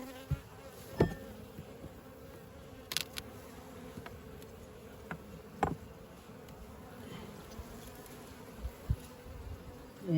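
Honey bees hum steadily around an apiary hive during feeding and winter preparation, a continuous close drone with occasional louder passes by individual bees and no talking.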